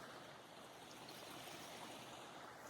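Water rushes steadily over a small dam at a spring-fed swimming hole in Red Rock Canyon, a constant broadband roar and splash with no voices.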